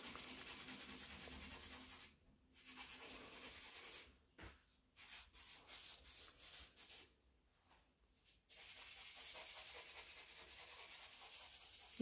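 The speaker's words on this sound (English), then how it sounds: "speeding up with the filing. That's all what I can hear." A nail file rubs back and forth during a manicure in quick, rhythmic strokes, faint and close, stopping in short pauses before resuming.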